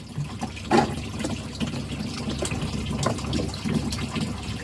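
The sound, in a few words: pump running, water from hose filling turtle tank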